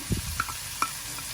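Peas stirred into a salmon and mushroom white wine pasta sauce, a low sizzle under a few quick spoon taps and scrapes in the pan.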